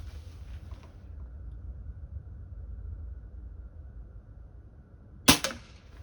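An air gun fires a pellet at a target, giving a single sharp, brief crack near the end after several seconds of steady low background hiss.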